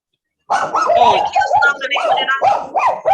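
A small dog close by yips and barks repeatedly in quick, high bursts, loud and continuous over a few seconds, with speech-like whining tones mixed in.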